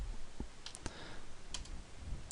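A handful of sharp computer mouse clicks land sparsely over a quiet room background, close and crisp, with no talking.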